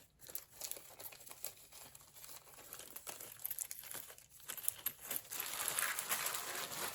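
Plastic bags crinkle and rustle as they are shifted around among vintage sewing notions, a run of irregular crackling bursts that grows busier toward the end, with no talk.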